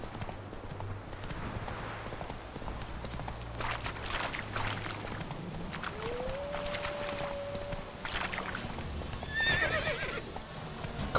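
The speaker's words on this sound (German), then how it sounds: "Komm, mein liebes Offroad-Pferd. Lass mal abgehen, ey." Horse hooves clip-clop at a steady running pace in The Witcher 3, with a whinny partway through, game music and effects playing underneath.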